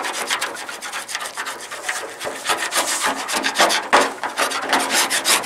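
Primer being scraped off a 1987 Chevy Monte Carlo SS body panel makes a steady, close, loud rasping scrape in quick repeated strokes with no pauses.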